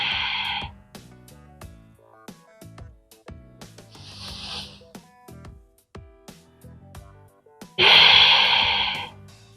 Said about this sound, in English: Now 3 times we are going to do abdominal breathing.